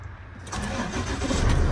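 Truck engine, left sitting for a while, fired up: a brief starter crank that catches at once into a loud, close running rumble, with no talk.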